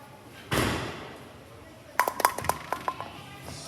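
A series of bowling pins struck in quick succession at a bowling alley, giving sharp clinking knocks with short ringing tones, loud and close, after a brief rustle.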